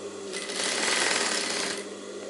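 A sewing machine stitches a line along the piping of a high-neck blouse, one steady close whirring run that rises in and fades after about a second and a half, with no voices.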